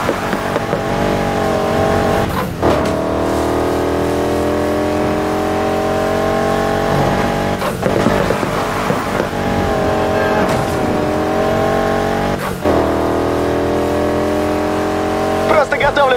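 Race cars in Need for Speed Heat accelerating hard, loud engine revving rising in pitch through repeated gear shifts, with a player talking over the din.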